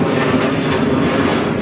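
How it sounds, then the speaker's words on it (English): Airplane flying overhead in an outdoor setting, a steady broadband engine roar that stays loud and even throughout, with no talking. "Airplanes."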